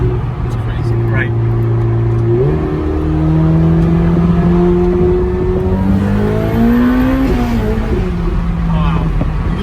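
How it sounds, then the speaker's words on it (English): Turbocharged car accelerating hard in open space after traffic, engine drone rising steadily with abrupt pitch drops at quick, hard gear shifts, loud and close inside the cabin, with people talking over it. "You just feel those turbos kick in"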